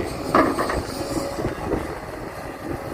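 A Develon DX220A excavator works on a reservoir canal embankment, with a continuous loud rumbling engine and rattling metallic clanks nearby, a sharper clatter near the start.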